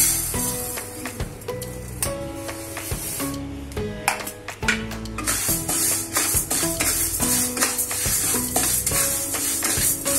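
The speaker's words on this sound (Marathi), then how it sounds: "इथे मी तांदळामध्येच मुगाची डाळ आणि उडदाची डाळ एकत्र केली आहे, तर ती आपण भाजून घेऊ।" Rice mixed with moong and urad dal is dry-roasted in a pan over a low flame, with repeated rhythmic scraping strokes and a dry, gritty rattle of grains throughout.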